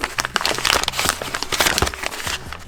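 Plastic packaging around a new waterproof ESC being cut and torn open, a burst of close crinkling and crackling with irregular sharp rustles and snips.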